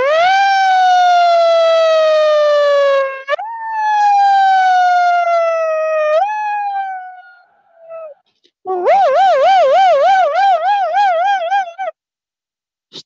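Ambulance siren wailing loud and close, shifting between steady held tones with upward steps and a fast warbling yelp, with a brief pause before the warble begins.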